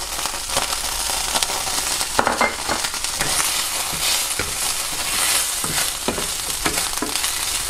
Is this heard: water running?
no